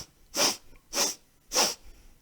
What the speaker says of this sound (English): Sneeze out the bad stuff.